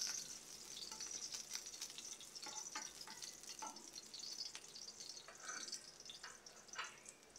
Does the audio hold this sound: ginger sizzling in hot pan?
yes